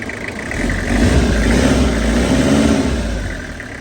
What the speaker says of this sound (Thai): เสียงเครื่องในกล้องนะแต่เสียงของผมฟังเนี่ยเสียงนิ่มมากนะครับ